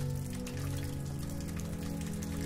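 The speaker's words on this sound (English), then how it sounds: "the only sound being the soft patter of raindrops accompanying you" Soft rain patters steadily on surfaces in a quiet village at night, a continuous even wash of droplets with no voices.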